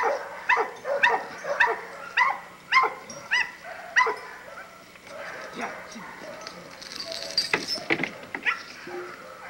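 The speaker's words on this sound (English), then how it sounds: "This is a young bitch we got here, very fast and very quick." Pit bulls in a yard bark in a quick series of sharp close barks, then shift to whimpers and yips, with a person talking.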